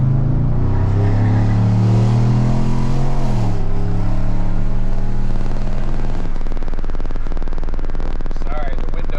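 Straight-piped true dual exhaust on a 2019 Chevrolet Silverado pulling onto a highway, a loud deep drone climbing in pitch through a gear, then steady cruising rumble with wind buffeting from open rear windows, with someone talking over it.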